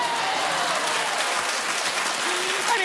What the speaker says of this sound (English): keep clapping, everyone